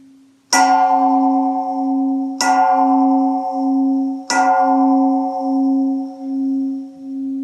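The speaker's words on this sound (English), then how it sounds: "when we're playing a metal bowl, we want to have it set down on a flat surface" A metal bowl resting on a flat surface is tapped lightly on its side three times, each strike ringing out like a temple bell with a long, shimmering sustain that pulses and overlaps the next hit, close and clear with no talking.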